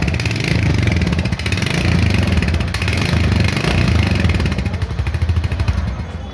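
A Royal Enfield Hunter 350 motorcycle, a high-revving 350 cc single, runs close by with a loud, throbbing exhaust beat that swells through repeated throttle blips and settles back between them.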